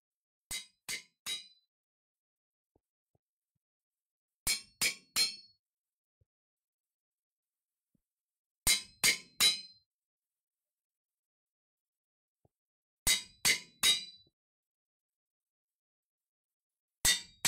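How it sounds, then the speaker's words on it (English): File and screwdriver tool effects in the video game GT6 Lite, heard as short clusters of two or three bright metallic clinks repeating every few seconds over silence. "I'm running the file, and the screwdriver."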